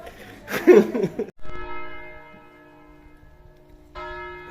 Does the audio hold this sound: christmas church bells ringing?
yes